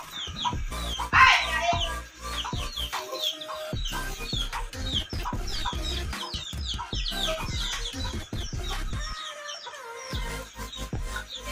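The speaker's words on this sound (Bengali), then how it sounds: "মুরগি ছানাগুলোকে ধরো দেখি" Hens and chicks cluck and peep in a farmyard, with repeated nearby clucks and small chirps and people talking over them.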